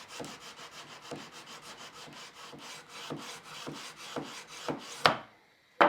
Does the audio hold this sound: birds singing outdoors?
no